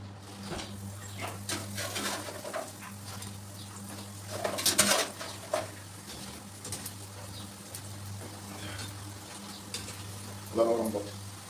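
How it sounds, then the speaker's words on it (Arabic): Pieces of bread dough fry in hot oil, a steady soft sizzle under a low electrical hum, with occasional clinks of a utensil against the pan and a brief louder burst midway. "لسه هنزلها تاني في الزيت علشان بس ايه تبقى مقرمشه معايا كده وحلوه"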